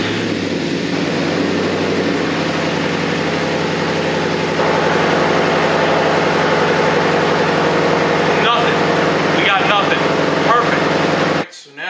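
A Ford Mustang engine idles steadily at close range with a low, continuous rumble and hum, someone talking over it, before the sound cuts off abruptly near the end.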